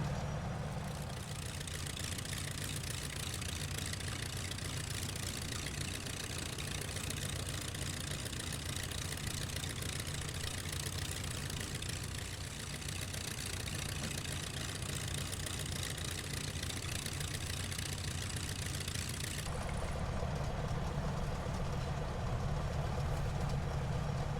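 DH-82 Tiger Moth biplane engine running steadily at low taxi power in Microsoft Flight Simulator 2020, a continuous droning hum with broad noise, shifting slightly in tone near the end, no voices.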